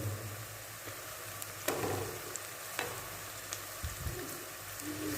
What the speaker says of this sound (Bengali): এবারে এটাকে 2 মিনিট মতন একটু ভেজে নেব।